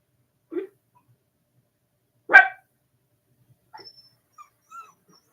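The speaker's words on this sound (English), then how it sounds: "You hear the puppies in the cage." Puppies in a cage give a few brief, isolated whimpers and yips, separated by silence, with one louder cry in the middle and faint squeaks after.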